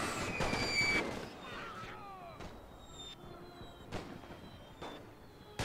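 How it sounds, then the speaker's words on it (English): Artillery fire in The Great War, a World War I mod battle: a dense cluster of booming blasts at the start, then scattered distant thuds and sharp cracks of rifle fire over the rest of the clip. "And the artillery decided they were gonna help out."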